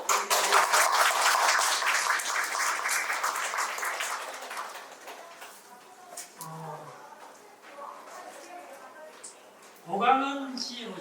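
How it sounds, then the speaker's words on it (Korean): An audience at a Korean book talk claps in a dense burst of applause that fades out over a few seconds, followed by someone speaking. "박수 좀"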